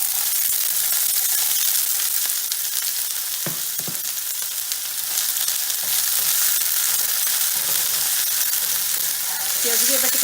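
Chopped onion frying in hot oil in a pan for a cheesy vegetable pasta gives a steady, loud sizzle and hiss that runs throughout, with faint stirring clinks near the end.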